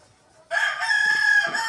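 A rooster in a chicken breeding pen crows loudly and close, one long sustained cock-a-doodle-doo that breaks in sharply after a short quiet start and carries on to the end.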